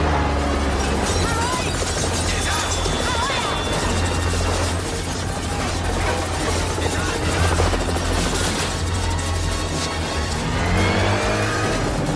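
A helicopter sound effect in a James Bond audio drama: a loud, continuous rotor thrum and engine roar under layered action noise with engines revving, steady and close throughout, with no voices.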